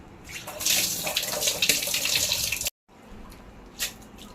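Water splashes and gushes steadily for a couple of seconds, stops abruptly, then a brief second splash follows after a short pause.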